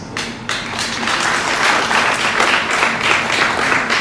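An audience applauds a singer at a mining chamber event in Kinshasa, with steady, dense clapping that swells after a brief opening burst and carries on loudly for the whole stretch.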